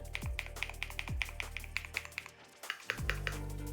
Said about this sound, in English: The keys sound really nice. They're very crisp, very clear.